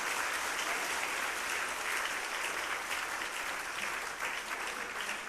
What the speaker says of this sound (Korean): 격려의 박수 좀 부탁드립니다.